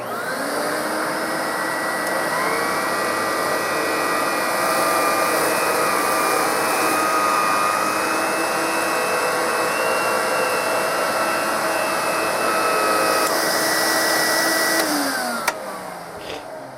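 Electrolux Epic 6500 upright vacuum cleaner running continuously at close range, a loud steady motor whine with a sustained high pitched tone, dropping slightly at the end as it powers down.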